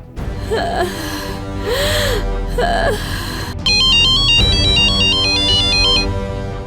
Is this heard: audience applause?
no